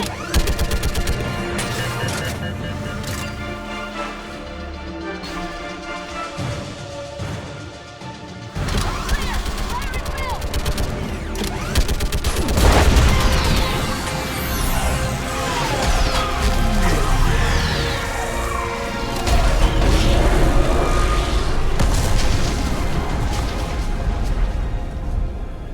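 Orbital strike explosions in Mass Effect 3 land as a dense run of heavy booms and crashing blasts with rumbling debris, loud and continuous over several seconds, mixed with gunfire and game noise.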